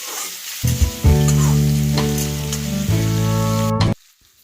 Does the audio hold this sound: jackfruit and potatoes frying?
yes